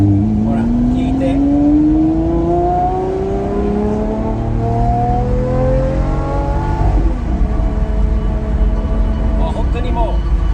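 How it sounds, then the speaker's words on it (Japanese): A naturally aspirated V12 car engine pulls smoothly while driving, a loud steady tone climbing through the gears with a whooshing cabin rumble, as people talk in the car. "スムーズな力でこの V12 の NA サウンドは素晴らしいです"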